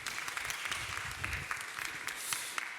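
A church audience at a newcomers' worship service claps steadily for a guest lecturer, a dense, even patter of many hands lasting the whole stretch with no voices on top.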